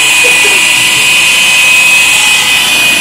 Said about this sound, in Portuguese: Uma furadeira entra em ação.